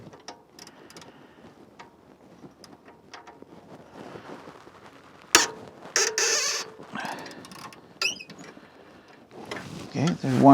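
Socket wrench working loose an alternator bolt on a Dodge Challenger, with quiet ratcheting clicks and a few louder metallic clanks and knocks near the microphone in bursts, alongside handling noise.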